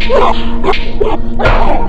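A pit bull barks four times in quick, loud, close bursts, each short and sharp with a slightly whiny edge.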